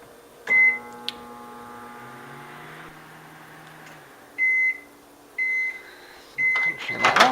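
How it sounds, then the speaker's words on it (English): A microwave oven hums steadily and is then stopped and restarted, letting out several short, sharp electronic beeps in separate bursts, close by with rustling and handling noise near the end. "Normally, it's just in the microwave for a good 3 minutes."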